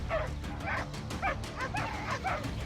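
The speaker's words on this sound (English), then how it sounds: "The two dogs run around the hedgehog and make noises to scare the animal." Two large dogs yip, bark and whimper repeatedly in quick bursts while harassing a porcupine outdoors, the excited calls close and moderately loud.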